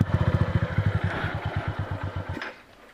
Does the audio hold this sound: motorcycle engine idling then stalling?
yes